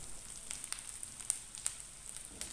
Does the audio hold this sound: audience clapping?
no